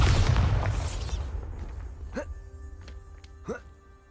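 A Bombarda explosion spell in Hogwarts Legacy erupts with a loud, deep boom that fades over a second or two, followed by quieter pops and rising magical whooshes.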